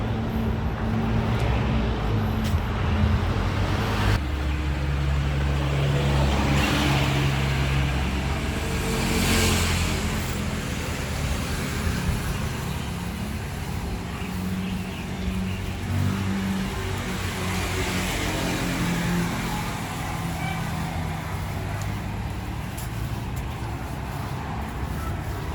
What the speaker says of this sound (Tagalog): Yan yung ibang mga sasakyan.